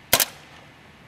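A paintball marker fires one sharp shot, a loud close pop with a quick echo that fades into quiet background.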